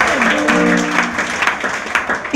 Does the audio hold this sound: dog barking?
no